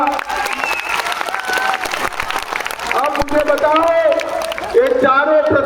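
A large crowd at an outdoor political rally in Madhubani claps and cheers for four candidates, the broad applause mixing with voices and other crowd noise as it builds.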